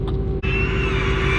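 A Dodge Redeye Jailbreak engine roaring close up, a loud sustained droning rumble with a steady high whine on top, briefly dipping before carrying on.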